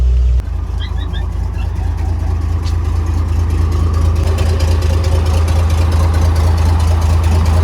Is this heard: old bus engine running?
yes